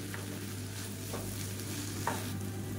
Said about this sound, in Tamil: ஹை ஃப்ளேம்லேயே வச்சு கிளறி விட்டுக்கோங்க